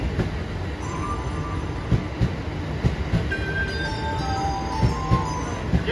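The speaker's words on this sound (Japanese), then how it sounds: "11番線列車到着しております。" A Takasaki Line local train pulls in at a station platform, steady rolling rumble and wheel noise with faint squeals and rhythmic rail clicks, loud and close throughout.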